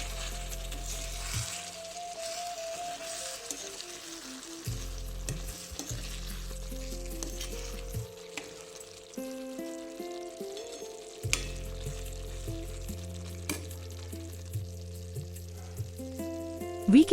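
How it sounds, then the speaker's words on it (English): Red tomato sabzi masala is stirred in a pan with a spoon, soft scraping and light sizzling running under prominent background music throughout. "open the lid and stir well so that the masala does not stick to the bottom of the curry"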